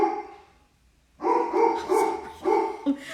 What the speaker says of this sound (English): sometimes he barks like that when there's deer